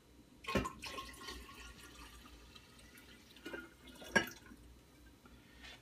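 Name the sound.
pouring cold water into drink dispenser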